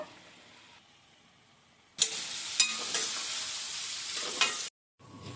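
Onions and green chillies hit hot oil with a sudden loud sizzle that holds steady for nearly three seconds, with a few clinks of stirring, then cuts off, after faint kitchen background.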